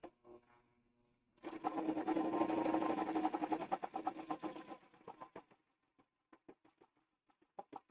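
A sewing machine stitches a curved seam on a pair of shorts in one steady burst of a few seconds. It then stops and gives way to scattered clicks and light handling knocks.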